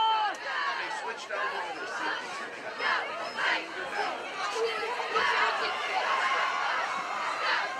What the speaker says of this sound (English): You can hear the crowd getting fired up on Algonquin's side, hoping for a stop